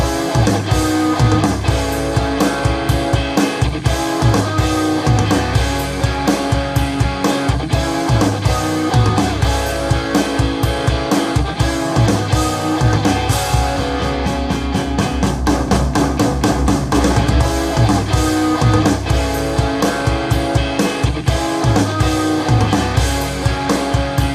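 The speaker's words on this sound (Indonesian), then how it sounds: "Musiknya ini cuma ada baru gitar sama drum aja" Full band-style music with steady drums and guitar plays continuously through a Yamaha HS5 studio monitor speaker, loud and dense with no talking.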